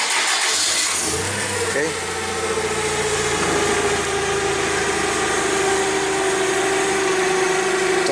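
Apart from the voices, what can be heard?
forklift engine starting up and idling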